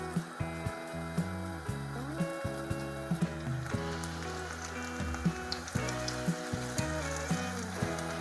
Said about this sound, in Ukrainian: На попередню розігріту сковорідку додаємо олії та викладаємо